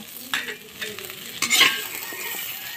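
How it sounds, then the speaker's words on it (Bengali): Potatoes fry in hot oil in a village kitchen while being stirred, giving a steady sizzle broken by several sharp scraping stir strokes, one especially loud near the middle. "তো এখন একটু ভেজে নেব আলুগুলো।"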